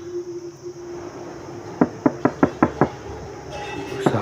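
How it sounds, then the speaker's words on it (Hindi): Seven quick, sharp knocks rap on a car door in a fast, even sequence, close and loud, with a low hum beneath and a faint extra tap at the end. "वह और भी तेज़ गति से नॉक करने लगती है"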